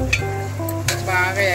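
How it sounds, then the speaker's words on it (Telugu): Ginger garlic paste frying with browned onions for an Andhra-style village chicken curry, a close, steady sizzle with a few sharp stirring scrapes against the pan over a short stretch. "పచ్చివాసన పోయే వరకు అల్లం వెల్లుల్లి పేస్ట్ వేగాలి."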